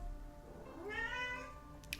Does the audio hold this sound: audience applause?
no